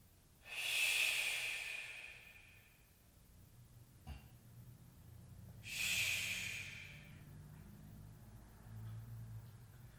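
Two deep, breathy exhalations during a yoga hip-opening stretch, each a loud airy rush lasting about two seconds, separated by a quieter stretch with a faint click and low background rumble.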